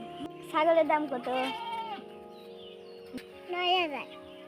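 A goat at a livestock market gives repeated quavering bleats, nearby and fairly loud, in two bursts separated by a short pause, amid the murmur of voices at the market.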